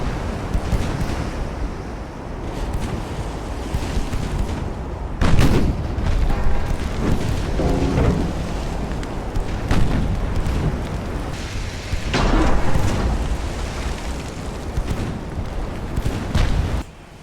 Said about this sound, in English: right now we're only firing on the rear turret